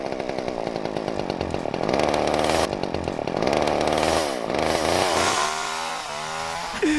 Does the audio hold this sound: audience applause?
no